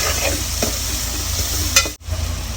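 Onion and tomato sizzle and crackle in a hot pan for a Kathiyawadi dhokli curry, with a steady close frying hiss and a few scraping stirs, no voices.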